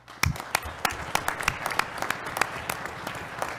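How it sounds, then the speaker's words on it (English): An audience in a room at a surgical society event applauds veterans in thanks, a steady patter of many hands clapping at moderate distance that holds for several seconds with no talk. "I think we should just give everybody in the room a round of applause"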